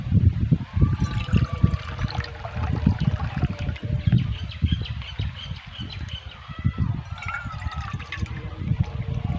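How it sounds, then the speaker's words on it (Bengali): Water poured into a mixing bowl of seasoned dough mixture for steamed papad, a continuous close trickling and splashing flow with some low rumble underneath. "এবার এর মধ্যে জল দিয়ে দেবো"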